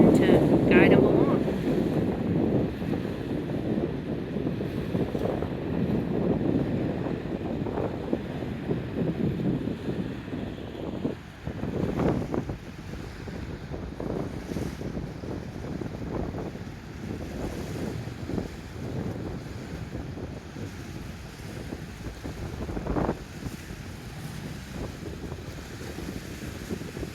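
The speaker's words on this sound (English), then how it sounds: "It's pretty windy." Strong wind buffets the microphone at a lakeside park in Suntree, Florida, with a constant roaring rush and gusty swells over lapping water for the whole stretch.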